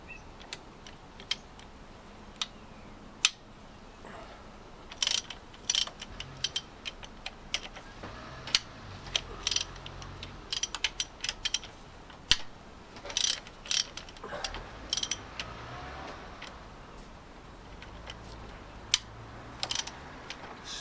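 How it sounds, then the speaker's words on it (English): A ratchet clicks in quick, irregular bursts while undoing injector clamp bolts on the 10P engine of a Land Rover Discovery 2 TD5, close and fairly quiet, with short pauses between runs of sharp metallic ticks. "Slotting all the clamp bolts off"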